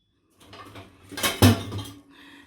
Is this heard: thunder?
no